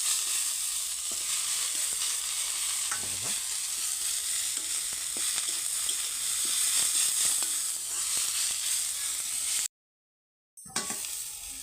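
Onions, with tomato to follow, fry in a pan, a loud, continuous close-up sizzle and hiss with faint stirring noises, broken near the end by a brief silence before the sizzle resumes.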